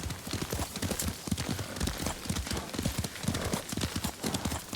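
Horse hoofbeats while riding in the video game Ghost of Tsushima, a steady galloping clip-clop rhythm of hooves on ground, continuous and fairly close.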